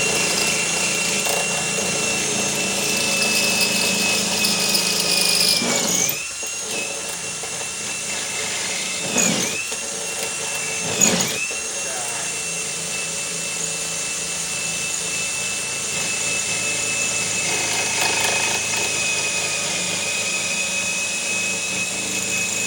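A power drill whines steadily while boring into the lower handle of a 1999 Toro LawnBoy 21-inch mower, with a few brief dips and bursts in pitch as the bit bites, moderately close and without talk.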